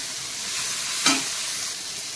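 Tomato chutney fries in a pan with a steady, soft hiss and a single brief scrape of a spoon stirring midway, close and fairly quiet, no voices.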